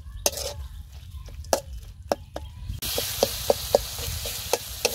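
A spoon stirs fish curry with gaynali leaves in a pot, sending out a run of sharp scraping strokes. From about the midpoint a louder, steady sizzle comes in underneath. No one speaks.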